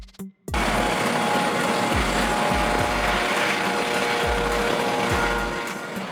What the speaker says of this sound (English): A helicopter used by law enforcement for tasks such as surveillance, pursuit, traffic control, and search and rescue operations.